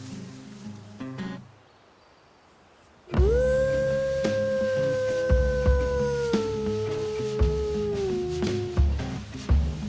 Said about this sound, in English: I just heard a wolf howl.